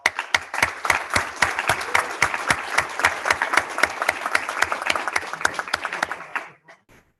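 An audience at a county board meeting applauds the new county administrator, a brisk round of individually distinct claps from a modest group, steady for about six seconds before quickly tapering off into a few faint final sounds.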